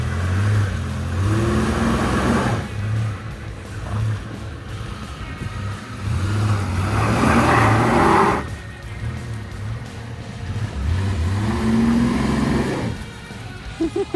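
A truck engine revs in repeated bursts while stuck off-road with the differential locked, loud and rough with surges around the middle and end, mixed with people talking nearby.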